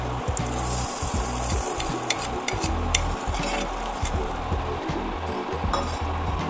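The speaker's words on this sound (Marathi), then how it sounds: "हे आता आपण टाकून घेऊ याच्यामध्ये फोडणी." Hot tempering oil, with asafoetida added, is poured and stirred into a homemade chutney, making a loud continuous sizzle. A spoon scrapes and clinks against the pan throughout.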